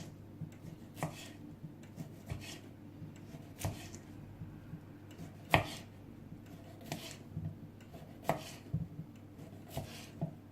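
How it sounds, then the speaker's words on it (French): A knife slices saucisson on a wooden board in a series of separate soft thuds and scrapes a second or two apart, close but quiet, with no talk. "je coupe des tranches"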